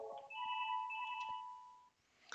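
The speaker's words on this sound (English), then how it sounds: "I get my inbound phone call." An inbound call ringtone on an 8x8 business phone system chimes as a short sustained electronic tone, fairly quiet and alone, fading out after about two seconds.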